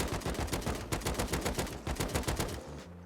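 Rapid automatic gunfire in the survival video game Rust, a fast, evenly spaced burst of loud shots lasting about two and a half seconds before cutting off.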